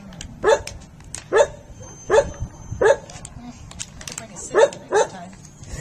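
A dog barks six times in a steady series of sharp, moderately close barks, with a low background murmur underneath.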